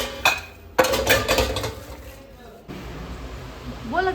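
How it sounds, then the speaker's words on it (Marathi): Dishes, pots and utensils being washed at home, with clattering metal clanks and scraping in uneven bursts, a quieter stretch in between, and a voice briefly speaking near the end. "अर्धी अजून अर्धी भांडी घासायची बाकी आहेत."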